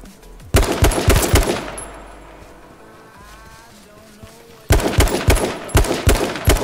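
Machine-gun bursts hammer at a player in a video game, two loud rapid-fire volleys with a quieter lull between them, over a faint engine-like drone.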